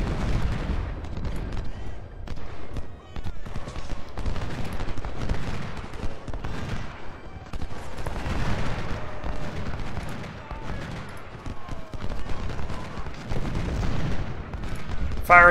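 Continuous musket volleys and artillery fire from a Civil War battle in the Ultimate General: Civil War video game, repeated crackling bursts and deep booms layered densely throughout, loud and busy with no letup.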